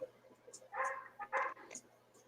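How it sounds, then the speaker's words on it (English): A dog gives a few faint, short barks and yips from a distance indoors, spaced irregularly over a couple of seconds. "Hear my dog."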